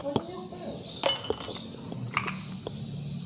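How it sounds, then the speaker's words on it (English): Ice cubes clink into a glass while dalgona coffee is being made at home. Several sharp, bright clinks land close by at irregular moments over a soft background, and a voice speaks briefly between them. "I'm gonna get some ice cubes."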